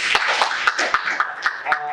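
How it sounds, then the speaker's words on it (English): Steady, evenly spaced claps ring out in a round of applause for a team at a gender perspective forum in The Gambia, each crisp slap landing about every quarter second, close and moderately loud. "they deserve a round of applause"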